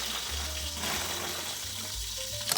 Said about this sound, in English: I put just a little bit of regular white vinegar in my water, and I let those greens soak and wash them thoroughly